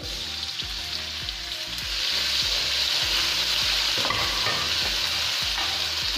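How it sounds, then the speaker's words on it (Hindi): Ginger garlic paste sizzles loudly in a pan of whole spices for chicken pulao, a rough frying hiss that swells after a moment while a spoon scrapes in steady strokes. "साथ में हम डालेंगे अदरक लहसुन का पेस्ट"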